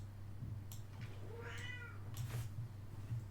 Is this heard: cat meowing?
yes